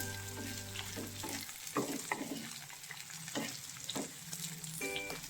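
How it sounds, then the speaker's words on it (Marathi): Green chillies with curry leaves frying in hot oil, a steady close sizzle punctuated by repeated scraping stirs of a spatula across the pan, with a faint tonal hum in the background. "तेलामध्ये छान फ्राय करून घेऊ आपण 5 मिनिटं तरी।"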